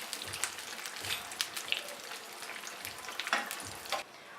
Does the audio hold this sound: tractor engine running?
no